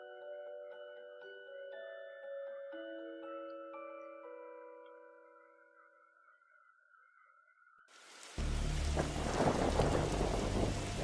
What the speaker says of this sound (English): He must have seen the strange storm gathering over it.